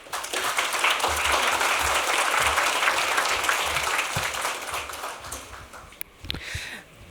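Conference audience applauding as a project leader is welcomed onto the stage, a full, steady round of clapping that gradually thins, with a few louder scattered claps near the end.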